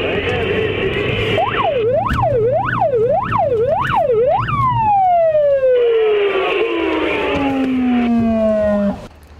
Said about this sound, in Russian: Маяки и сирена включены.